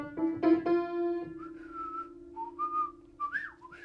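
A person whistles a clear, sustained tune, with held notes at first, then shorter rising and falling chirps, loud and close with no talk.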